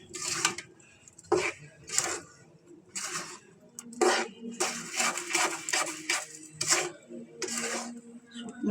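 A spoon stirring a thick sweet mixture with nuts for moa and barfi in a metal pot, producing repeated scraping and clinking strokes in irregular bursts, close and fairly clear.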